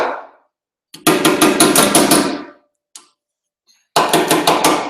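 Loud, rapid hammer blows on metal during dent repair, in two quick bursts of ringing strikes, separated by a pause with a couple of single taps.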